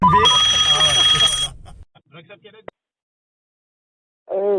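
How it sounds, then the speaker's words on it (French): A telephone rings with a bright electronic trill under a speaking voice, then cuts off into near silence before a voice returns. "Quand tu dis ça, le téléphone vire."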